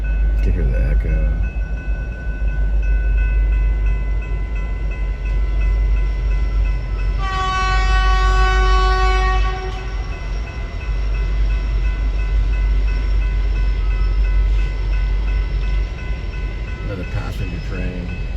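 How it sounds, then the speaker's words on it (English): A passenger train rumbles past steadily. One harmonic horn blast sounds partway through and lasts a couple of seconds. The sound is close and continuous, with a faint voice briefly present. "Passenger train."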